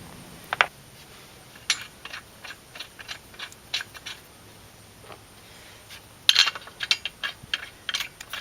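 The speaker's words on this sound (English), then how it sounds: "taking these bolts and putting it back into the tire" Lug bolts going back onto a car wheel while fitting a spare, heard as scattered light metallic clicks, clinks and ratchety rattles, some sharper bursts near the end, in an otherwise quiet setting.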